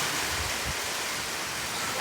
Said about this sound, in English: Yeah, it is pouring, guys.